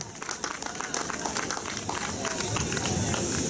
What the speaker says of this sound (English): give everybody a round of applause, even yourselves